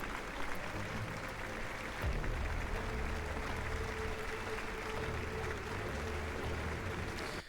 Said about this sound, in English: you hear the, like, insane clapping and there's no one there